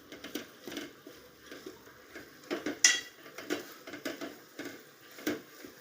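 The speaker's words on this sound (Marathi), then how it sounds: "दोडका पण परतला जातोय तेलात चांगला मसाल्यात, त्यामुळे चांगला असं परतून घ्यायचा." Ridge gourd being sautéed with oil and masala in a pan, heard as intermittent clinks and scrapes of a spatula against the pan at an uneven rhythm, close and moderately quiet.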